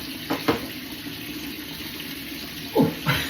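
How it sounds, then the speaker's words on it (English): A kitchen hot tap runs steadily, a low continuous wash of water under a few brief clunks and knocks nearby. "Run off the hot water."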